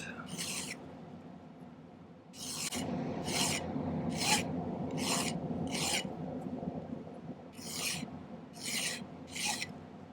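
A hand file rasps a slight outward bevel onto the top edge of a silver piece for a tassel necklace. Several close, rhythmic strokes come in quick bursts with short pauses between them, and no one speaks.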